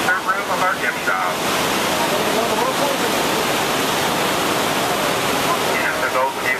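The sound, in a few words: Niagara River whirlpool rushing water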